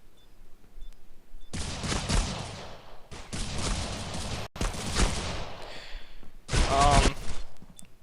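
Bursts of rapid gunfire from a Counter-Strike-style competitive match, several dense volleys separated by short pauses, loud and close, with a final sharp burst near the end.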